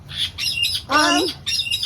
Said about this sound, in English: So that's my Indian ringneck, in case you're wondering who you're hearing